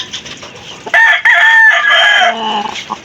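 Roosters crow close by, one loud drawn-out cock-a-doodle-doo rising over softer clucking from fowl, with no talk.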